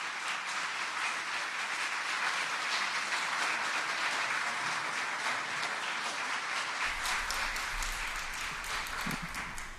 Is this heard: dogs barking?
no